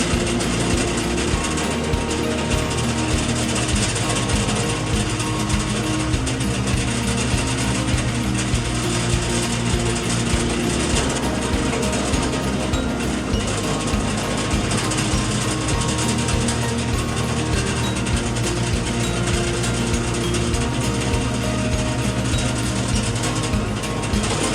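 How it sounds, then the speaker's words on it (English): An electric drill bores holes into the ends of a homemade door handle, a steady mechanical whir and ratcheting grind running continuously and loud throughout with no talking. "Now I just need to drill some holes in the ends"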